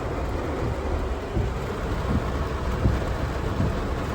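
Heavy thunderstorm with steady, loud rain pouring down and low rumbles of thunder rolling underneath, constant and close with no voices.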